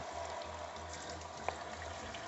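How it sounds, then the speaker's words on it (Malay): Water is poured into a cooking pot holding coconut milk while catfish is cooked in a lemak sauce, a low, steady splashing trickle with one sharp clink partway through. "Dalam ni kita masukkan air."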